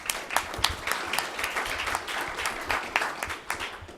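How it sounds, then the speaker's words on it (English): A small audience at a Little Rock community meetup gives itself a round of applause, brisk, moderately loud clapping with distinct individual claps that runs steadily for a few seconds. "give yourselves a round of applause just for being here"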